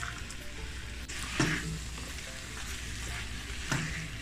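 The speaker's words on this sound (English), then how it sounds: "My stir fry." Chicken and vegetable stir fry sizzles steadily in a hot pan, a constant broad frying hiss with a couple of louder bursts as food is stirred or added, close and alone with no talk.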